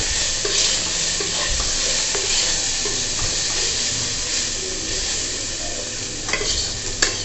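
Sweet corn stirred and sizzling in a pan with a little butter and soy sauce: a close, continuous frying hiss with repeated spoon scrapes and clicks against the pan and sharper taps toward the end.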